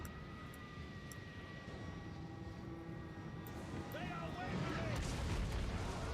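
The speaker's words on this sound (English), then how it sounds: "there goes the mortars" Mortars in the Total War battle game fire with deep rumbling booms over a constant roar of battle noise, rising louder toward the end while a voice talks over the game.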